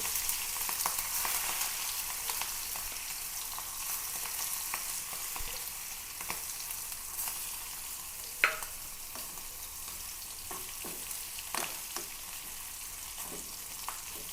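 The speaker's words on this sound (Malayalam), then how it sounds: "ഒരു ചെറിയ തണ്ട് കറിവേപ്പില അങ്ങനെ ഇട്ട് കൊടുക്കാം അതിൻ്റെ മീതയിലിട്ട് നമുക്ക് പൊരിച്ചിടാം" Fish frying in hot oil with a small sprig of curry leaves on top, a steady close sizzle and crackle throughout with occasional sharper pops and spits, no talking.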